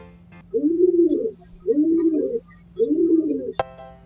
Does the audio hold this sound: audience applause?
no